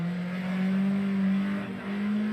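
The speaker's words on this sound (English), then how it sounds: "4-cylinder engine" BMW M3 with a four-cylinder engine in the RaceRoom racing sim at the Nordschleife, a loud sustained steady engine drone holding pitch with a slight dip, no talk.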